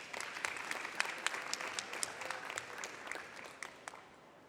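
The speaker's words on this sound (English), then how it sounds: "I'd like everybody to give a round of applause for Lila." Audience clapping at a pitch competition for an innovation test track, a steady patter of many hands at moderate distance that carries on for several seconds and slowly fades.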